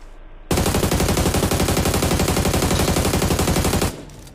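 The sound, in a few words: gunfire in a battle royale video game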